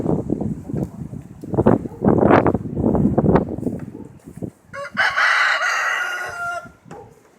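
Chickens cluck and fuss close by on a windy farm, with a rooster's crow rising in bursts over the flock before a stretch of breezy noise.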